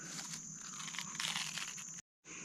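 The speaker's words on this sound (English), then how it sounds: "That's one crunchy taco." Crunchy bite into a bacon and cheese taco with Cajun-seasoned crispy bacon, eaten outdoors while motorcycle camping: a close, dense crackling crunch lasting about two seconds, then a brief silence and more crunching.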